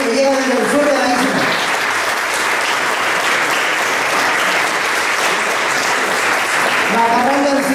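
Loud, sustained audience applause for visiting artists at an anniversary celebration of a day centre in Gáldar, a thick wall of clapping throughout, with a voice speaking over it at the start and end.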